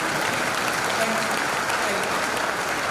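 A large audience at a university investiture ceremony gives sustained, dense applause, an unbroken roar of clapping hands filling the whole stretch at steady loudness.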